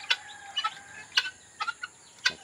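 Caged guineafowl on a small farm give sharp, noisy squawking calls in several short bursts, moderately distant and fairly faint against a quiet background.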